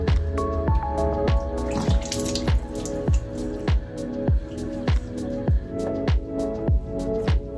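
Tap water runs and splashes in a sink during face washing, with a regular rhythm of drops and squishy splashes up close over a steady running stream, no voices.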